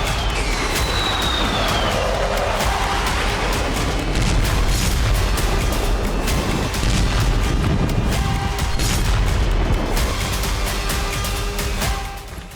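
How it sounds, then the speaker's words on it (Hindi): Bombs dropped from Su-34 aircraft explode over Nova Kakhovka as a loud, continuous roaring rumble with dense crackling bursts and booms running throughout, with no pauses. "नोवा काखोकवा में Su-34 एयरक्राफ्ट से बम गिराए गए"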